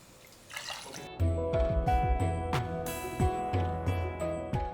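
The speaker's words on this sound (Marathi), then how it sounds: "आता यामध्ये घालायचं आहे पाणी दोन वाट्या तांदूळ आहे त्यासाठी तीन वाट्या पाणी" Water poured into sautéed rice in a pressure cooker for coriander pulao, a close, steady splashing pour that starts after a quiet second and runs with gurgling drips to the end.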